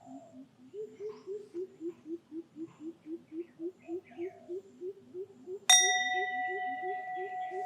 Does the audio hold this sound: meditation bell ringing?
yes